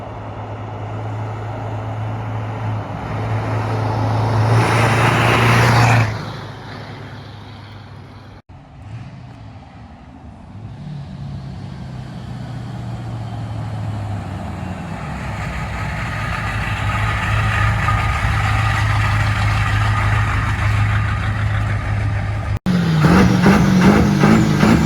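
A lifted 600HP 7.3 Powerstroke diesel truck on 26x16 wheels and 40-inch tires rumbles past, its engine swelling to a loud pass, dropping off, then building again as it drives by a second time, with a deep steady drone.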